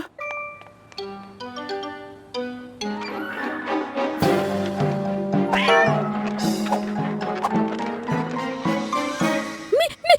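A cartoon cat meows repeatedly in bright, pitched cries over a busy musical score, the calls rising and bending in quick succession.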